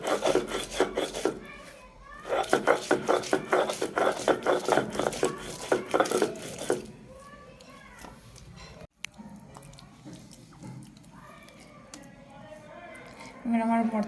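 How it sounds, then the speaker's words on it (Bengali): Green chilli bhorta is ground with fried garlic and salt, a rhythmic rasping and scraping of the grinding stone in quick repeated strokes that then eases off into quieter rubbing, with a voice talking over it. "ভেজে রাখা রসুন আর লবণ দিয়ে বেটে নেব।"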